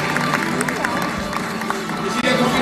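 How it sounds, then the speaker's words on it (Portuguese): Studio audience on a Brazilian afternoon TV show clapping and cheering, a busy wash of applause with crowd babble and music-like tones underneath. "uma salva de palmas para todos eles"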